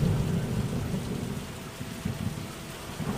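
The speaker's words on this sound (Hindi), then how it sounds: "बिना मौसम के इतनी भारी बारिश, मानो कोई जोर जोर से पूरे जंगल में चीख रहा हो" Heavy rain pours through a forest with deep rolling thunder rumbling underneath, a loud continuous downpour with low booms swelling and fading, no voices.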